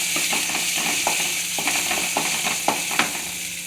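A rava and potato snack mixture fries in a pan with a steady loud sizzle, while a spoon stirs it and scrapes the pan in a few soft, irregular knocks.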